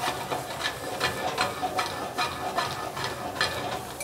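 Garlic goes into a pan of onions and vegetables sautéing until translucent, giving a soft, continuous sizzle broken by regular scraping bursts from stirring, with no voices.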